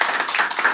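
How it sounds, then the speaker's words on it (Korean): An audience at a formal policy seminar claps to welcome a speaker, a brief, dense patter of many hands at steady volume. "박수로 환영해 주시기 바랍니다"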